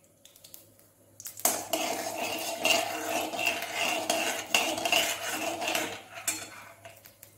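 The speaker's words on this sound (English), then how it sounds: "I'll put in mustard, little rice and urad dal to it. So let it splutter." Mustard seeds, a little rice and urad dal spluttering in hot oil for an idli batter snack, a dense crackling and popping that bursts in after a quiet start and fades near the end.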